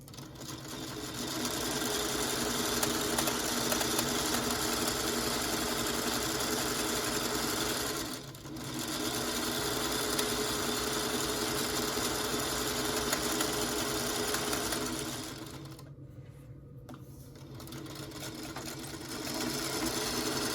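A sewing machine stitching fabric strip sets for quilt blocks, a loud, steady whirring motor hum running nearly nonstop with two brief pauses, and no voices.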